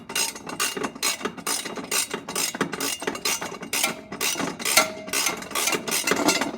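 Ratchet working loose the last downpipe bolt on a big-turbo Toyota Supra, a fast run of close, loud clicking bursts repeating in steady rhythm with a few brief metallic tones between strokes.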